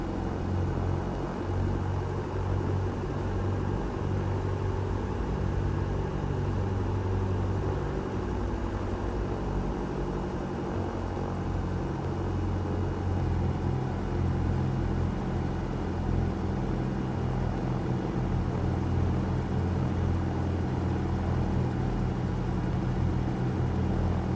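A Just Flight Duchess Model 76 twin piston aircraft taxis in X-Plane 12, a steady, loud engine drone with low rumble holding constant throughout, no voices.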